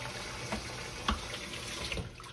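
Liquid poured into an Instant Pot pressure cooker while cooking a cream dish, a steady splashing pour running the whole clip with small clunks, close and moderately loud, with no voices.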